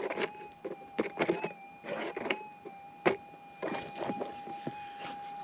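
A handheld metal detector in the field, gold prospecting on a rainy day, sounding a steady electronic tone with a wavering pitch above scattered rustling and scraping.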